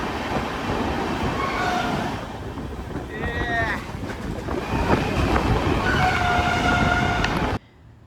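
Heard from aboard a moving passenger train: steady rumble with clattering wheels and rail squeal, brief high screeches rising at times, continuous and close, until it abruptly cuts off.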